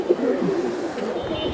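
Silver giribaj pigeons of the chharachhari line coo softly and close by, a short burst of throaty warbling over faint background hiss.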